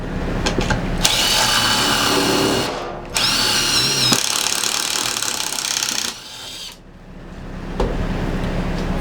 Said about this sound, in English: So we've set our jig, and we're going to make our pocket screws.